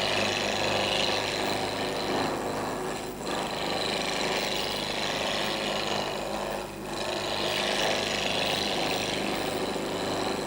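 A gouge roughing a wood spindle on a lathe makes a steady, loud, rasping hiss of cutting, with two short dips as the tool moves along the work, no speech.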